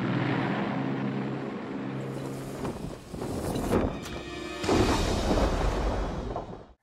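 Loud, steady engine and propeller roar fills an aircraft cabin throughout, with broadband rushing noise and a few shifts in intensity, no voices audible over it.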